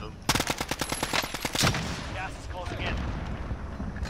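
Rapid automatic gunfire in Call of Duty Warzone, a quick string of sharp shots in a steady rhythm lasting just over a second, then fading into quieter game ambience while a player talks.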